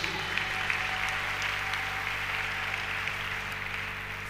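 A church congregation applauding to acclaim Jesus during a service, a dense, steady wash of clapping from many hands that holds at an even level throughout, with a faint voice underneath.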